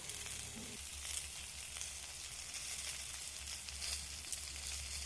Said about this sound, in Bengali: সবজি আমি ভালো করে ভেজে নিলাম।